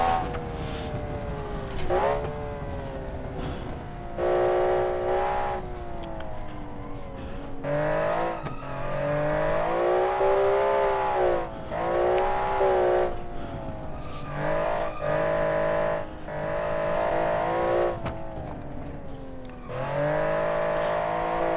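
A custom-built Automation car driven in the BeamNG game, its engine revving up repeatedly through rising and falling pitch sweeps, loud and close, with brief dips between gear changes or throttle lifts.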